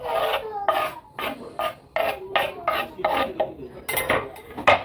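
A spoon scrapes and stirs finely chopped onion, cucumber and tomato together in a bowl for koshimbir salad, a close, loud series of about a dozen rhythmic raspy strokes.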